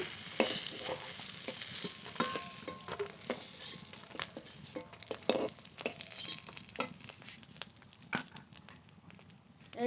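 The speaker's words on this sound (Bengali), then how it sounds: "এই মাছগুলোও ভেজে নেব।" Big prawns sizzling and frying in a hot pan with oil, a steady crackling patter of small pops and spits throughout, fairly close and moderately quiet, with no voices.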